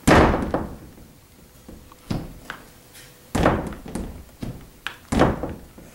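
A repaired door is swung and closed several times in a garage woodworking shop, giving a series of close, sharp thunks and knocks spaced irregularly.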